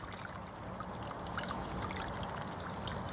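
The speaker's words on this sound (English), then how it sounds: "let's go get the watering can and let's water our seeds" A watering can pours water onto planted seeds in a garden, a steady trickling stream running continuously and close up without a break.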